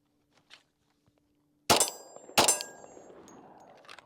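Two sharp, loud gunshots from a Glock 40C pistol ring out about a second apart, each followed by a metallic clang of the round striking a steel target, then a fading reverberant tail with no talking.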